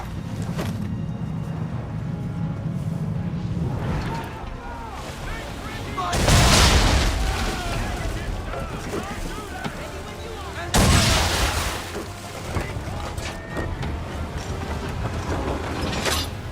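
Assassin's Creed III battle: two heavy booming cannon and gunfire volleys erupt about four seconds apart over a rumbling background of shouting soldiers and distant crackling shots.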